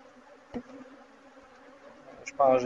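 A dense, steady insect drone of many honeybees humming together at close range in a hive, with a brief knock early on and a louder burst of buzzing near the end.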